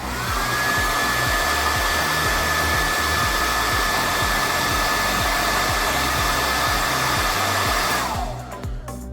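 A hair dryer blows steadily on a wet car key fob with a loud, constant whoosh and motor whine, running without a break until it cuts off near the end.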